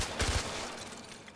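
Gunfire in the Far Cry 4 video game on PS4, a short burst of two or three quick, close shots near the start that trails off into a fainter, rattling tail.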